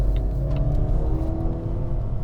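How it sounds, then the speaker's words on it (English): A 2019 Volvo S60 R-Design engine revs with a steady supercharger whine, turbo blow-off and low rumble, loud and close, holding briefly. "you can hear the supercharger winding up and you can hear the turbo blow off at the same time"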